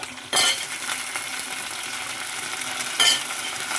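Drumstick pieces tossed into a pan of sautéing onions, with a steady sizzle and two sharp bursts of scraping and clatter as the vegetables drop in and get stirred.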